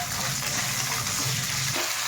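Dried red chillies sizzle in hot oil for a curry leaf chutney, a steady, dense frying hiss that stays loud and unbroken throughout.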